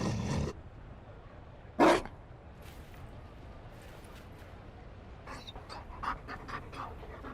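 A Mabari war dog in a fantasy video game pants softly near the start, followed by a brief louder burst and scattered faint game sounds over quiet ambience.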